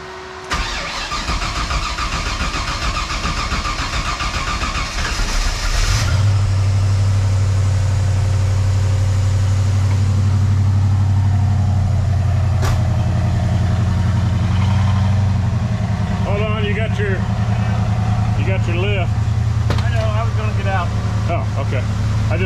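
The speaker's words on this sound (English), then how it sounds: "being fuel injected, you turn it on, let it pump up." A fuel-injected engine in a 1968 Shelby GT500 tribute cranks and catches, settling into a loud, steady rumbling idle that runs on, with people talking over it.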